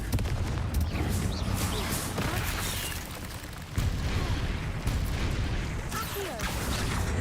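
Blasting Confringo spell explosions in Hogwarts Legacy, a dense run of loud booming bursts and crackling impacts over continuous rumbling battle noise, with a brief dip in the middle before the blasts resume.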